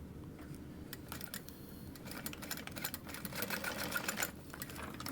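A sewing machine stitches a zipper tab onto a vinyl wristlet, giving a steady close mechanical whir with rapid needle clatter that grows a little louder partway through, with no talking.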